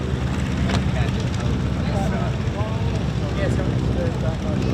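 An F6F-5 Hellcat fighter plane flies at an air show, a broad, steady propeller-engine drone in the distance, heard under a public-address announcer talking throughout.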